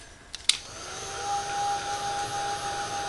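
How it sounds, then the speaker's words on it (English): Heat gun blowing hot air to dry paint on a snowman picture-frame craft, a steady broadband whoosh with a faint whine, starting after two short knocks and holding level. "So I'm going to get the heat gun again."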